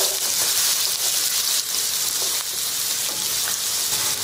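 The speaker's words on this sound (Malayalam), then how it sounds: "ഇപ്പം എണ്ണ നന്നായിട്ട് ചൂടായിട്ടുണ്ട്. അതിലോട്ട് 2 വലിയ സൈസ് സവാള ചേർത്ത് കൊടുക്കാം." Two large onions sizzle loudly in hot sunflower oil, a dense, steady crackling hiss that stays close and even throughout, with faint stirring clicks and no voices.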